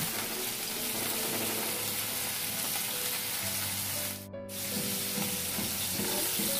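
Potato and cauliflower pieces frying in a pan give a steady, close sizzle through the whole stretch, with a brief sharp scrape or clatter partway through and soft background tones underneath.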